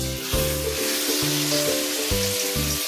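Eggplant sizzles steadily in hot oil over low heat, a broad crackling hiss that continues throughout, with a low rhythmic tone pulsing underneath.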